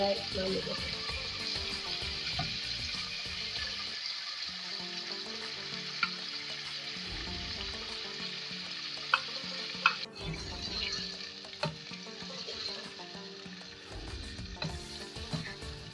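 Beef for achar gosht frying and being stirred in a pot, a steady close sizzle with intermittent scraping stir strokes and a couple of sharp clinks, continuing without pause throughout.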